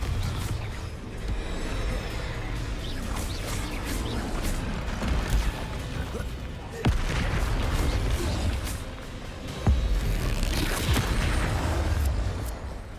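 Spell explosions from Bombarda and Confringo in Hogwarts Legacy, dense booms and crashing impacts over a continuous busy game soundscape, with sharper blasts standing out near the middle and later on.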